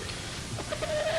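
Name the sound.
chicken clucking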